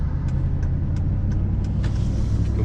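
Truck driving down the road, a steady loud low engine rumble with faint, regular clicking ticks over it, and no speech.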